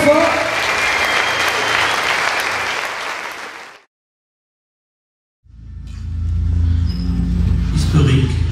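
An audience applauds loudly after a historical demonstration of Pombo, a Portuguese-Congolese combat art, with a thick burst of clapping that cuts to silence, then a fresh, rougher wave of clapping and crowd noise returns.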